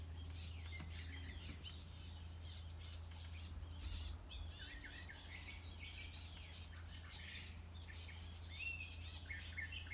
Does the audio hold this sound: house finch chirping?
yes